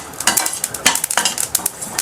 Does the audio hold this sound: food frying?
yes